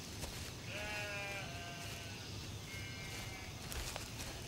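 Several sheep bleating in layered, wavering calls, a couple of long cries overlapping near the start and another around the middle, heard close over a steady outdoor hiss in a farming setting.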